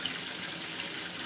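Water running from a bath tap at normal pressure, a steady, soft, even hiss and splash with no talking.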